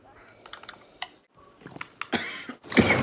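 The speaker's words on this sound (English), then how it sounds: "I start coughing as soon as I start recording." A few tapping clicks, then two harsh coughs close to the microphone at the end.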